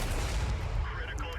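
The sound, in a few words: tank taking a shell hit in World of Tanks video game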